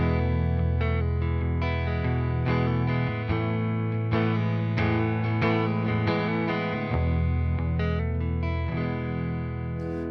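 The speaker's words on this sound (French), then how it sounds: "Donc au minimum, je n'aurai que le son de ma guitare." Dry electric guitar played through a Strymon blueSky Reverberator pedal with the reverb mix at minimum, sustained strummed chords and picked notes ringing continuously at steady volume, no voice.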